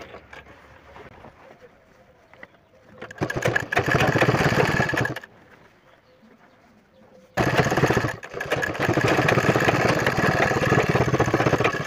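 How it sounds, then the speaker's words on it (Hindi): Sewing machine stitching a strip onto a jeans waistband, running loud and steady in two long bursts separated by a quiet pause, with a soft hum in between. "दोनों इस पट्टी को भी चिपका करके सिलाई कर देंगे।"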